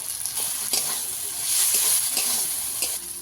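Chilli paste, turmeric and salt sauté in a pan as the base for a shol fish and green pea kalia. A constant hissing sizzle carries a few soft, spaced scrapes of stirring, close and without voices.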